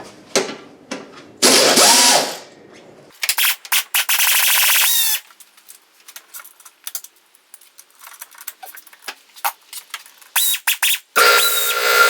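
A ratchet works loose a bolt during engine removal on a 2006 Subaru Outback, giving loud bursts of rapid clicking and metallic scraping with occasional squeaks, separated by short pauses, close up and with no speech.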